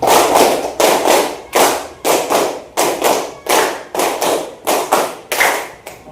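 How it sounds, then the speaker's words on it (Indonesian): Rhythmic hand clapping game in a classroom: a group claps together in evenly spaced loud bursts, roughly ten claps at a steady pace with short gaps between them and no voices over the top. "Masih bermain tentang tepuk tangan."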